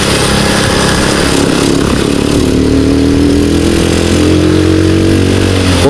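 A Rusi Gamma 200 motorcycle engine runs loud and steady at a close distance, a constant rumbling drone with a slight rise in pitch partway through.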